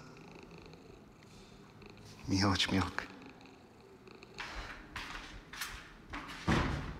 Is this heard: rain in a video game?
no